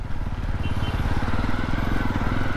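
A Jawa 42 motorcycle engine idling close by, a steady, even low-pitched thump with a smooth, regular pulse and no talk.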